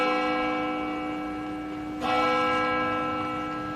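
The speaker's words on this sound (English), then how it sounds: "Oh, a bell." A church bell rings, with a sustained resonant tone fading slowly before a second strike renews it partway through. The ringing is alone and moderately loud.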